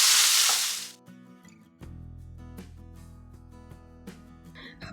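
Finely chopped tomato hits a pan of onions with a loud burst of sizzling that quickly settles into quieter frying under background music.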